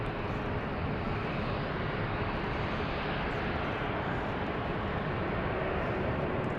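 GE90 engines of a departing airliner bound for Shanghai at San Francisco airport, a steady, dense full-power roar filling the scene continuously at moderate distance.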